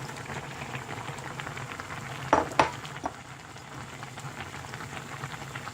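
Aged kimchi stew with tofu simmers in a pot with a soft, continuous bubbling. A few brief clinks stand out near the middle, and no one speaks.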